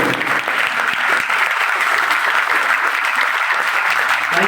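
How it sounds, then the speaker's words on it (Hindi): An indoor audience at a health awareness program claps loudly and steadily throughout, a dense continuous applause with no talking. "तो अभी तक की सबसे शानदार ताली होनी चाहिए।"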